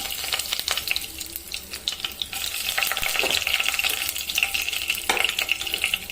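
Cinnamon and cloves spluttering in hot sesame oil in a pan, a close crackling sizzle with small pops and stirring clinks scattered across the few seconds, no talking.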